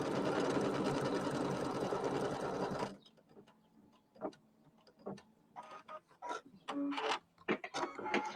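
A home embroidery machine stitches pieced flag and cherries quilt blocks, running loud and continuous for about three seconds, then stopping, followed by scattered clicks, taps and small handling noises.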